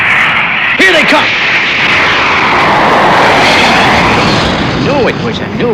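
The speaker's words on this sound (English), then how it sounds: "But did you see that? I certainly did. What a plane!" A plane roars overhead across a desert setting, a loud, sustained engine rush that swells and sweeps past, with brief voices at the edges.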